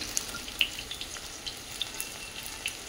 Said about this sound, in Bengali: প্রথমবারে অল্প ভেজেছি, দ্বিতীয়বারে একসাথে সবগুলো দিয়ে দিচ্ছি